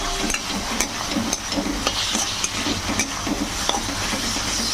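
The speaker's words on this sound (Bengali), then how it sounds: "সসগুলোকে ভালো করে এবার মিশিয়ে নিচ্ছি" Soy sauce and tomato sauce being stirred together in a hot pan for spicy pasta, a steady sizzle with repeated scraping strokes of a spoon, close and fairly loud.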